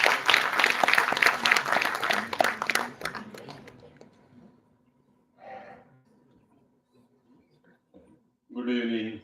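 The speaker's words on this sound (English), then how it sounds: "please welcome him to the lectern with a big round of applause" An audience at a university event applauds to welcome a speaker to the lectern, with loud dense clapping that fades away over about four seconds, followed by quiet with brief bursts of voice and noise.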